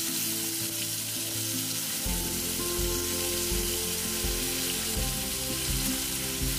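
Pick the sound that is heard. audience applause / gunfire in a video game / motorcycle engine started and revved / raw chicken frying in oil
raw chicken frying in oil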